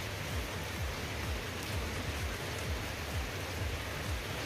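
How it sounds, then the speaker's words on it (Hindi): Steady, continuous rain falls in Barkot, Uttarakhand, after eighteen hours of nonstop downpour, making an even, dense hiss of drops with no voices. "यहां 18 घंटों से लगातार बारिश हो रही है"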